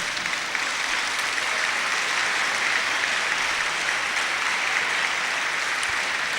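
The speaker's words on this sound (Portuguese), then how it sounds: "E para eles, um grande aplauso." Dinner guests at a candidacy dinner break into applause, a dense, even wash of clapping that holds steady at moderate level from start to finish with no talk over it.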